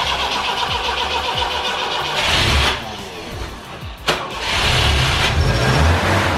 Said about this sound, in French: Ça, c'est ce qui fait démarrer tous les moteurs.